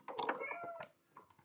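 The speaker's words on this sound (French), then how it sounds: "Qu'est-ce qu'ils ont, ces chats?" Cats meow in a few close, quiet calls, a longer drawn-out cry followed by a shorter one, with no one speaking.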